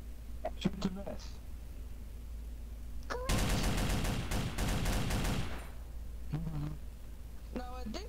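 Rapid burst of gunfire in a World War II Soviet roleplay shooter game, a loud two-second volley of shots in the middle, with speech before and after.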